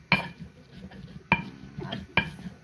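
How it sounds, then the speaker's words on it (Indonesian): Tavele herbal leaves are pounded by hand in a stone mortar with a pestle, giving three sharp knocking strikes with soft grinding scrapes between them, close and clear without talk. "Uleknya sampai halus, betul-betul halus."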